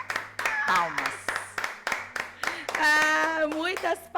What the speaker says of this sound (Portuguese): Muitas palmas.